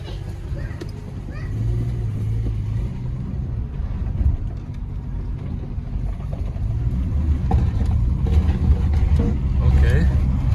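A 1994 Jeep YJ with newly assembled front suspension rumbles low as it drives forward slowly, its engine drone growing louder toward the end, with someone talking over it.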